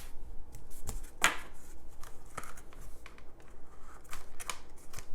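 Lobby cards for films are handled and slid back into a case, giving quick papery shuffles, rustles and soft card snaps in an irregular series of close, moderate sounds.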